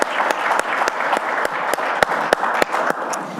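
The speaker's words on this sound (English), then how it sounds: "So big round of applause." Audience applause at a talk with a sports industry figure, a steady, moderately loud wash of many hands clapping, with a few distinct sharp claps standing out close by in a loose rhythm.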